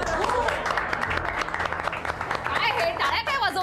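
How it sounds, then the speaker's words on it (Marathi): A small group of people clapping indoors in a residential society gathering, steady applause running under overlapping talk for a few seconds. "काय हे टाळ्या काय वाजवताय तुम्ही?"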